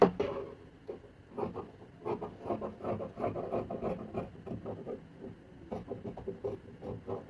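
Scissors cut out a fabric pattern piece for a short bubu gown, making a series of dry rasping, rubbing snips in irregular bursts, close and fairly quiet, with no voices.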